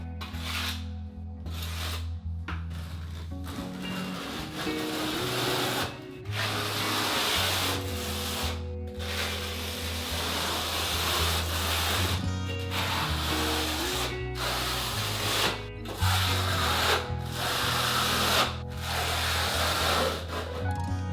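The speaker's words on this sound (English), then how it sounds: "So now that we've troweled this portion, we can back butter our big tile itself." A trowel scrapes and spreads thin-set mortar during a bathroom tile job, giving continuous close rubbing strokes with short pauses between passes and no talking.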